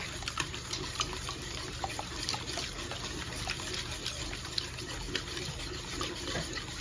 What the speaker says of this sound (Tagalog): Saka natin ilagay dito, ihalo dito yung init nating evaporated milk